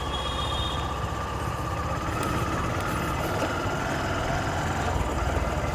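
Motorcycle engine running steadily at low revs after a downshift on a street ride, a continuous close rumble with a faint higher whine throughout, no voices.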